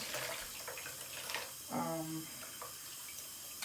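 Running water streams steadily from a tap while dye is rinsed out of a wig ponytail, a continuous close splashing flow with a brief squeezing swirl partway through.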